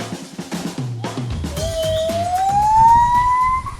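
A gibbon in a habituation enclosure at the Blanakan swamp sings a loud call, one long whoop that slides steadily upward in pitch over a couple of seconds after a few shorter notes, over low background rumble.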